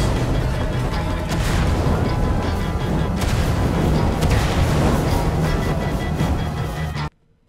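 In the Minecraft Story Mode game, a line of fire explodes as a loud, continuous roar of booms and crackling blasts that holds for about seven seconds and then cuts off to silence.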